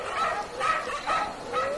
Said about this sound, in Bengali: ঘেউ ঘেউ শুরু করলো আমাকে ঘিরে।